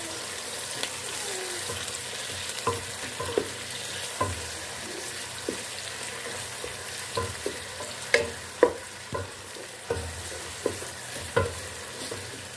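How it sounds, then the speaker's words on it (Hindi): Onions frying in hot cooking oil for haleem, a steady sizzle running throughout, broken by occasional clinks and stirring scrapes that grow sharper toward the end, with no one talking. "कुकिंग ऑयल गर्म हो गया, इसमें हम प्याज डाल देंगे और हम प्याज को ब्राउन कर लेंगे।"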